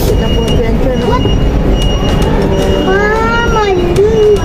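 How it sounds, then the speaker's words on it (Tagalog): A small ride-on train circles inside a shopping mall, a steady rolling rumble beneath lively indoor crowd noise, with children's voices and a woman chattering over it. "Iikot na po yung Tren, oh."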